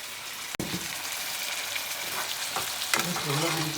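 Chicken and potatoes frying with spices in a pot, a steady close sizzle with a sharp clatter of a spoon stirring partway through and a few light scraping knocks.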